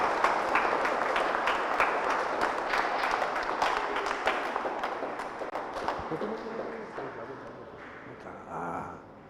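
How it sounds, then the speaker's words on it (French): A congregation at a Saturday Catholic mass at St Patrick's applauds warmly, with dense clapping that gradually thins and fades over several seconds and some voices underneath. "nous applaudissons bien fort"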